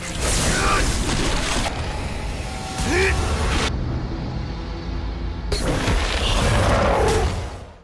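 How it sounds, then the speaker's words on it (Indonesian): A huge explosion in an animated fight scene, with heavy roaring bursts of noise that cut to near silence and then erupt again, loud and close. "Hal itu pun menciptakan sebuah ledakan yang sangat besar."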